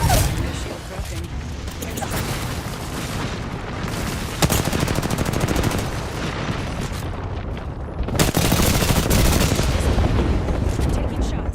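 Dense, loud video game gunfire runs continuously, with rapid automatic bursts and heavier booms layered over one another while a person talks underneath.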